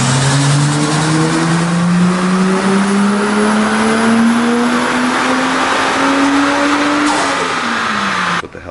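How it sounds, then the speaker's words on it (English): A Lexus IS300 with a swapped 1JZGTE VVTi engine runs on a dyno, pulling in one long, loud, rising wail through the gears before easing off sharply at the end. "So I actually had the chance to get the car on the dyno."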